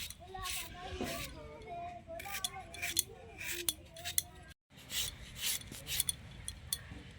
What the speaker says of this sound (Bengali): আমগুলিকে আমি এইভাবে করে কেটে নেব, একদম পাতলা পাতলা করে।